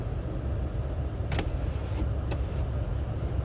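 A Toyota Land Cruiser 200 with the 1VD-FTV diesel idles with a steady low rumble, and a few faint sharp ticks that fit injector knock sound over the engine drone.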